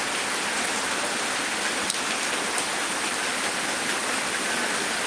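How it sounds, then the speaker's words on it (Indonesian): Heavy rain pours down in a dense, unbroken hiss, close and loud throughout with no voices, in Sicini village, Gowa Regency. "Bagaimana ini kalau hujan tidak kunjung reda?"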